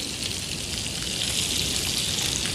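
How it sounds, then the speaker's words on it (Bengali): Fish from the Arabian Sea dry-frying in a pan without oil, giving a steady, close, evenly textured sizzle that hisses on without pause and with no voices. "মাছগুলো আমি এখন দিয়ে দিচ্ছি একদম মুসমুসা ভাজি করব তেল ছাড়া মাছ ভাজি"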